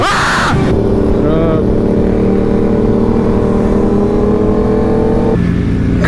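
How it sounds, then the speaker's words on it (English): A motorcycle engine drones steadily with a rising whine, then drops in pitch near the end as it goes by. "A motorcycle!"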